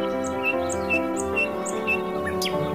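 Bird chirps and tweets repeat in quick bright bursts over a bed of gentle background music, light and moderately close, as a parrot calls in a children's learning song.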